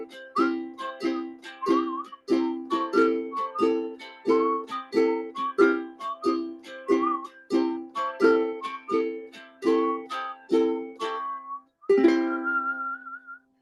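A person whistles a melody, a clear tuneful line in rhythmic phrases with a brief pause before a final held note, close and alone.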